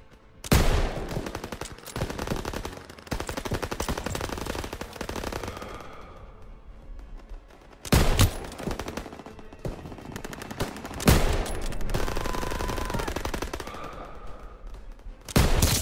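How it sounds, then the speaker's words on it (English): Machine guns open fire in the Call of Duty: WWII video game, with long, loud, continuous volleys of rapid gunfire broken by brief gaps and heavy crack-like blasts. "MGs, open fire."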